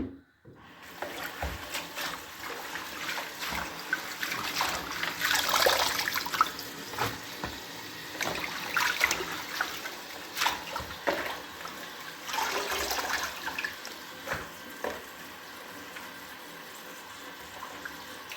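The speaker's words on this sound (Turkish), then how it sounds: "yapalım bir yandan su aksın." Water runs steadily from a tap in an outdoor cooking setting where wild greens are being prepared, a continuous splashing hiss that swells and thins as the stream hits something, with no voices over it.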